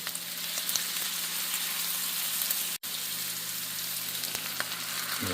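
Crushed tomatoes hitting a hot pan for baked ziti sauce, a broad steady sizzle with scattered spits and a steady low hum, interrupted by one instant of silence, no talking.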